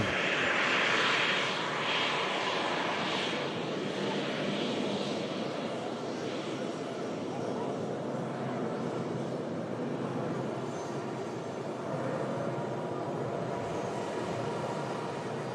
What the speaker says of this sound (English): Nice and smooth engine noise.